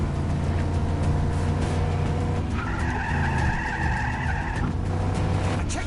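A truck in the video game Just Cause 3 drives hard, its engine roaring loudly throughout while tires skid and squeal in a long sliding screech through the middle.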